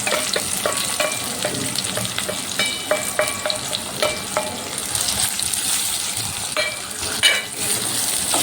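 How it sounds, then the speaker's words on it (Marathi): Onion fries in a pan for paneer dum biryani, a steady close sizzle with bursts of crackling and occasional light scraping taps from stirring. "याच्यामध्येच हा कांदासुद्धा फ्राय करणार आहे बघा."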